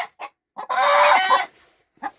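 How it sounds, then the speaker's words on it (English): A rooster in a chicken coop crows loudly and close by in one long call, with short clucks before it and another after. "They said roosters are noisy."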